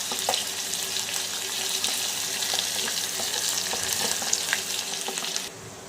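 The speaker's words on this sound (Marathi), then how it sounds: "यानंतर लसूण छान परतवून घेऊ" Garlic sautéing in oil in a pan for hotel-style South Indian sambar, a steady close crackling sizzle with scattered pops and light stirring scrapes, continuous for the whole stretch and easing slightly at the very end.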